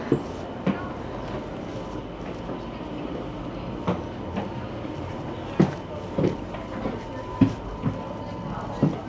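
Inside a train carriage in Leiden, Netherlands, a low steady rumble runs under faint clicks, knocks and occasional thumps of passengers moving about, with no clear talk.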